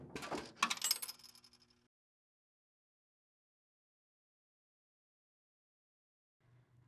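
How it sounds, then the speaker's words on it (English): Coins drop through the changer of an MEI CASHFLOW 7000 in a vending machine, a quick burst of bright metallic clatter and jingling into the return cup during a test vend, settling within two seconds, then near silence. "check that all coins drop into the coin return cup properly"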